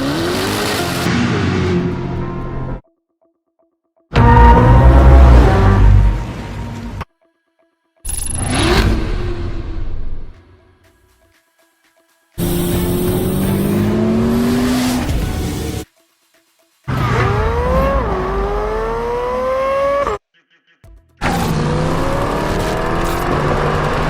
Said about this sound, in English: listening to the sounds the engine on all three cars made side by side by side